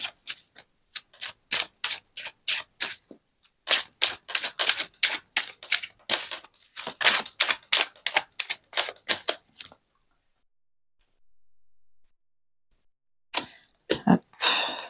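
Tarot cards are shuffled and drawn at a table in quick crisp flicks and taps, rapid dense bursts close up, then a pause before a few more snaps.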